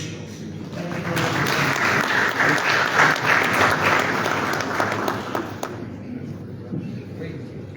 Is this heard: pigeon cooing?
no